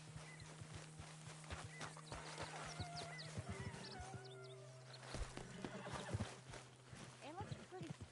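Horse in the video game Red Dead Redemption 2, snorting and whinnying with hoof clip-clops and shuffling, moderately close while a person talks over it.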